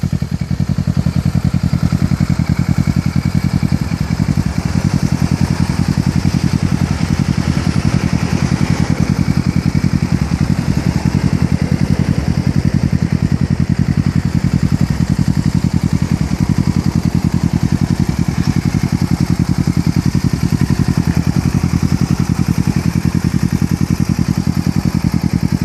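A 2013 Kawasaki Ninja 650 with a Two Brothers full-system exhaust runs steadily and loudly at close range, a constant deep engine drone with faint clatter and no clear revs.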